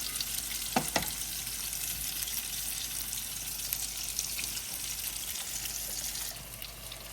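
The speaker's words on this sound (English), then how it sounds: "and some of the beets, and we're gonna let it cook for another few minutes." Salmon and beets cooking together in a pan give a soft, even sizzle and gentle frying hiss, fairly quiet and continuous with a faint clatter near the start.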